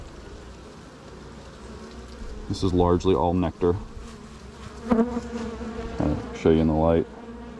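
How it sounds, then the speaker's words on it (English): Honey bees hum and buzz steadily from an opened hive with only a few seams of bees and nectar-heavy frames, a continuous insect drone running beneath a person talking close by. "I'd say not a ton of bees up top, maybe 5 or 6 seams of bees."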